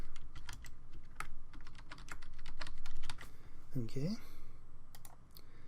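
Rapid clicks of a computer keyboard as a password is typed, a close, quick run of keystrokes with a brief spoken word partway through.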